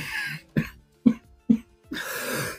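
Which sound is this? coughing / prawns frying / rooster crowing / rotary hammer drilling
coughing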